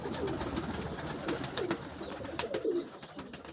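Low, soft cooing of many pigeons, including tumblers, repeating close by at a bird market, over a dull background hum, with a few faint clicks and flutters.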